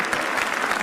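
Studio audience at a comedy roast claps in a dense, steady burst of applause, many hands close together at constant loudness with no pauses.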